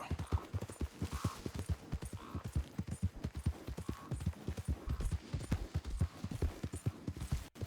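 Horse hooves clip-clop in a steady, fast rhythm through Red Dead Redemption 2 gameplay, the hoofbeats close and continuous over a low background hum.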